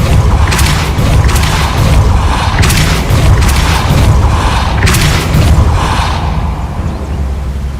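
A spell blast effect in a Harry Potter style video game gives a loud, sustained rumbling boom with several surging bursts over a dense low roar that eases off toward the end.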